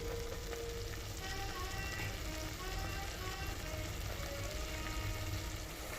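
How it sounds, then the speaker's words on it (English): Prawn malai curry cooks slowly in coconut milk over a medium flame, a soft continuous sizzle and bubbling heard close and fairly quiet. "Just added the coconut milk and slowly in medium flame I'm cooking it."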